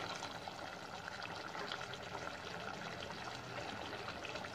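Water pours steadily into a cooking pot of chicken masala, a continuous splashing trickle lasting several seconds with no voices.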